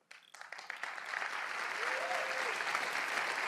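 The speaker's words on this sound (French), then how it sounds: "Arrêtez d'applaudir les gens, vous êtes cons." A live audience applauds during the iPhone X keynote, clapping building quickly from a few scattered claps into a steady, fairly distant wash of applause.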